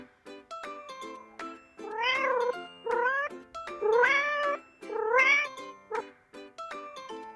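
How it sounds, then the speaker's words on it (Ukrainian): A cat meows repeatedly, four drawn-out wailing calls in a row, close and clear, with soft tonal sounds between them. "Кіт."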